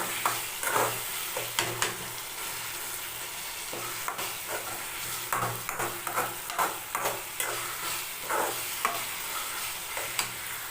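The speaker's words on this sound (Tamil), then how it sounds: "தக்காளி வெங்காயம் நல்லா சுருள நல்லா வட்டி வதக்கி எடுத்துக்கோங்க" Tomatoes and onions sautéing in a pan for a dried-fish thokku, a continuous close sizzle broken by regular scraping stirs and soft spatula knocks, with no speech.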